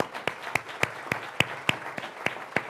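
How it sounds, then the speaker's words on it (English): An audience at a tribute program for Dr. Freeman Hrabowski gives a round of applause. A bed of general clapping runs throughout, with sharp, loud claps repeating in a steady, even rhythm over it. "But give them a round of applause."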